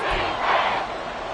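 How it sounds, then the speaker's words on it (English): Football stadium crowd roaring loudly and steadily ahead of a big third down, a dense continuous wall of voices with no clear breaks, swelling slightly near the middle before settling. "The crowd getting into it as we come up on a big 3rd down."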